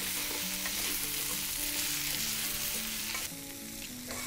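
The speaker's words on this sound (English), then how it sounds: "And give that all a stir again" Chow mein noodles with soy sauce stir-fry in a hot pan, giving a loud, steady sizzle with stirring scrapes throughout, while gentle background music plays and no one talks.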